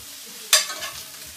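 BBQ jackfruit in a pan gives a brief burst of sizzle and a stirring scrape that fades quickly over a quiet background, with no voices.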